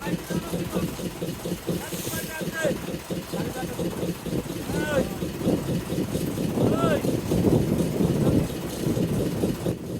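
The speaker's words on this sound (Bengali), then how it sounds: "মাঝে মধ্যে বেশ বড় বড় ঢেউ এসে ট্রলারে আঘাত করে এতে করে আমাদের এই ছোট্ট কাঠের ট্রলারটি অনেক বেশি দুলে থাকে" A small wooden fishing trawler rolls in big waves on a stormy sea, with water sloshing and wind buffeting throughout while people talk over it.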